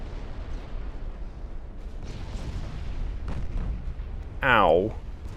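Warship flash fire explosion in the naval strategy game Ultimate Admiral Dreadnoughts, set in a 1910 German campaign: a low, steady rumble of battle noise, then a sudden loud burst with a sweeping, crackling tone near the end.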